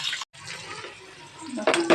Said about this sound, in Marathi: आता बारीक चिरलेला कांदा घालायचा